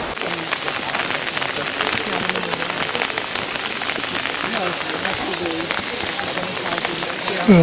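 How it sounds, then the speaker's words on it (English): Heavy rain falls in Zion National Park near Emerald Falls, a dense, steady patter of drops striking surfaces, with a voice talking underneath the continuous downpour. "A lot of rain right now."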